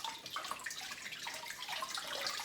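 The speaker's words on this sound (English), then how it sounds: "what I do is I slowly pour it onto that median." Water is slowly poured onto a median in an aquarium tank, a soft, continuous trickle and splash with small bubbling detail, close and fairly quiet.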